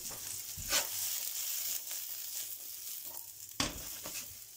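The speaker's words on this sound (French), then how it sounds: "On va venir les faire sauter pas trop longtemps pour que ça reste croquant" Asparagus and spring onions sauté in a pan, giving a faint, steady sizzle with a couple of brief stirring scrapes, heard close and alone.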